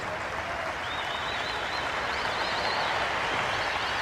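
A cricket crowd at Kingsmead applauds on a sunny day during a Test match, a sustained wash of clapping with scattered whistles rising over a few seconds, no voices on top.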